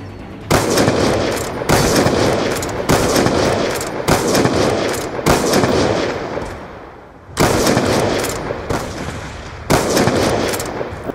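Rapid automatic gunfire in a Black Ops 2 one-versus-one match, loud repeated bursts of shots separated by short pauses, with no talk over it.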